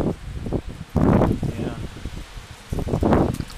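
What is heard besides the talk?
wind storm rustling leaves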